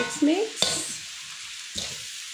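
Fried noodles (mee) with white pepper are tossed and stirred in a pan with a few sharp utensil scrapes and knocks over a faint sizzle, in a quiet kitchen.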